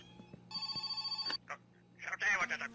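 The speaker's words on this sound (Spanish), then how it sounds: "¡Teléfono! ¡Teléfono!" A telephone in the video game My Summer Car rings in short repeated electronic trills, followed by a brief burst of a voice.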